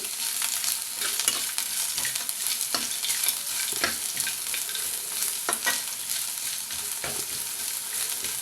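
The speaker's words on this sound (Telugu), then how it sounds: "అల్లం వెల్లుల్లి పచ్చివాసన పోయేంత వరకు వేయించుకుందాం" Ginger garlic paste fries in ghee in a pan, giving a bright continuous sizzle with occasional sharper pops and stirring sounds, fairly quiet and with no voices.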